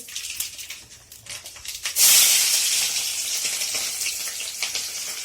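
Cumin, pepper, fenugreek and mustard seeds drop into very hot oil and burst into a loud, steady sizzle and hiss that carries on to the end, after quieter kitchen clatter before it.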